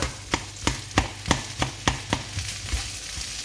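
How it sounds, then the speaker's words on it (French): Garlic mixed into frying chili con carne, heard as a spoon striking the pan in an even series of about nine sharp knocks over a soft sizzle, close and clear, no talking. "Hop, de l'ail. Voilà. Donc là, on va mélanger tout ça."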